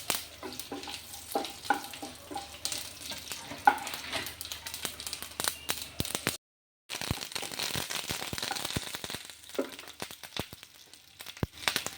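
Urad dal and dried red chillies sizzle and crackle in hot oil for a tempering, with busy frying hiss, sharp popping bursts throughout and a brief silent gap midway.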